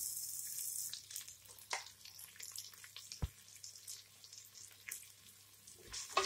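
Four large chopped onions fry in a pan with a steady, hissing sizzle, joined by brief clatters and splashy bursts that swell again near the end.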